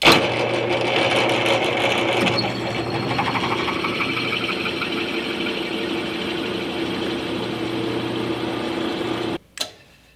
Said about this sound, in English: Let's try grinding this off so that there's not a bevel there.